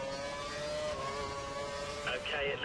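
High-revving Formula 1 car engine in the F1 2012 racing game at Monaco, a sustained tonal whine held at full revs with a brief pitch change near the end, faint under commentary.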